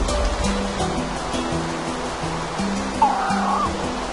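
Water waves wash steadily in Minecraft with the Jurassicraft mod, a continuous rushing surf under quiet, low, tonal background notes.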